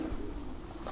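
Pigeons coo softly inside a pigeon loft, a low steady murmur running through the whole short moment with no voices over it.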